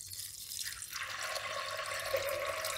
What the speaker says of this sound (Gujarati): હવે આપણે એમાં પાણી નાખશું.